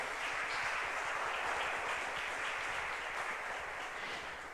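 A church congregation applauds during a sermon, a dense, sustained patter of many hands clapping together, heard at some distance and fading slightly toward the end.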